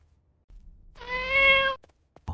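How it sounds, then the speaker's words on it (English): A single drawn-out meow from a huge black cat in an animated children's story, loud and close, about one second long with brief soft noises before and after. "A huge black cat entered, its eyes gleaming in the dark."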